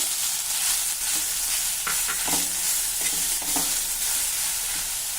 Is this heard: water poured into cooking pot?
no